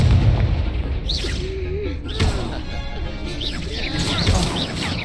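A booming Confringo spell blast in Hogwarts Legacy, heavy low thumps and crashes under a constant game soundscape, with a voice shouting over the action.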